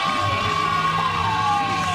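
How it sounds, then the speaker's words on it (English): Kansas Jayhawks fans at a home college baseball game roar after a ninth-inning home run, a steady, dense crowd cheer that fills the whole stretch without a break. "A cheer of those Jayhawk fans"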